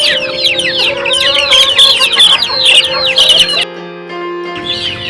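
Chickens cluck and chirp close by in busy overlapping calls, then the flock briefly falls quiet before a few more clucks.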